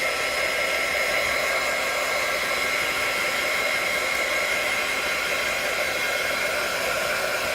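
A hair dryer blows steadily on wet paint, a continuous even hiss of airflow at close range for the whole stretch with no voices over it.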